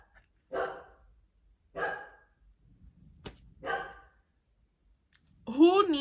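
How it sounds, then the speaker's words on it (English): Dog barking indoors, three spaced single barks of moderate loudness, then a voice begins talking at the end. "my dog's barking"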